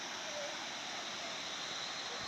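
Waterfall near Sasaram in Rohtas, Bihar, at low water, its steady broadband roar of falling water throwing up mist, close and continuous with no break.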